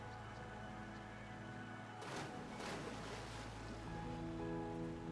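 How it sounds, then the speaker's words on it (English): Ocean waves in Final Fantasy XIV: a quiet, continuous wash of surf and wind that swells slightly midway, with a soft sustained musical drone underneath. "It's like the ocean."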